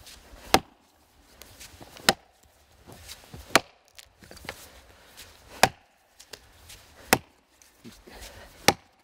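An ax chops chips off a block of wood: about seven heavy, sharp strikes land roughly every second and a half, each ringing briefly, with soft rustling between blows.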